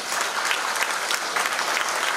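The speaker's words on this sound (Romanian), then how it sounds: "vă rog aplauze" Audience applause at an evening talk on Plato and the apostle Paul, a steady, dense wash of clapping from a full room, loud and continuous throughout.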